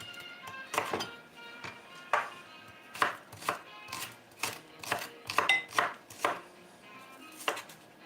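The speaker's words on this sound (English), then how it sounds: "I think I am just gonna cut up just a smidge more onion and throw in there" A knife chops through onion on a cutting board in a series of sharp, close knocks, irregular in rhythm with short clusters and pauses, about a dozen strikes over the stretch.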